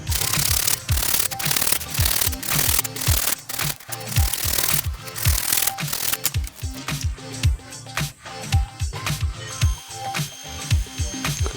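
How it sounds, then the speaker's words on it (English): A hand saw cuts through PVC pipe with fast, rhythmic back-and-forth strokes. The rasping is close and loud, continues for around twelve seconds and slows slightly toward the end. "It's safer to use the hand saw instead."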